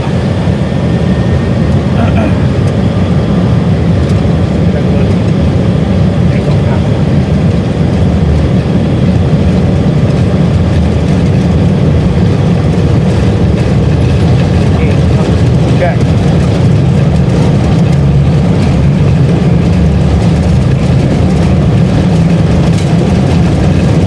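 Aircraft engines at takeoff thrust make a loud, continuous low roar and rumble heard from inside the cockpit, with broadband noise throughout and voices talking over it.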